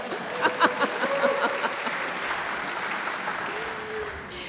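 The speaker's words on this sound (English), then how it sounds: "It's okay to applaud, I guess." An awards celebration audience honoring faculty excellence bursts into applause, a broad, steady wash of clapping that lasts the whole stretch at moderate loudness, with a voice briefly audible near the end.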